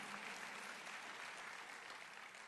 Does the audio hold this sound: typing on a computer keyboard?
no